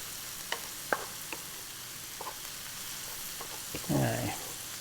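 Dried oregano is stirred into a sizzling pan, a low steady fry under a few light scrapes and taps, ending in a short louder scraping stir.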